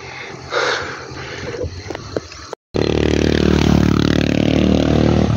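A motorcycle engine drones steadily under rattling and clatter, then grows louder and fuller as it labors up a very steep hill on the T'boli Loop in Mindanao.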